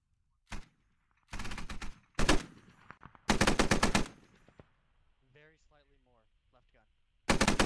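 A squad lays down fire in the tactical shooter game Squad, with several loud, separate bursts of automatic gunfire at long range broken by short pauses and a brief voice between them.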